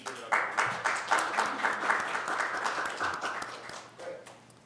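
A small audience at an academic colloquium breaks into applause, scattered claps quickly building into steady clapping that gradually thins out and fades.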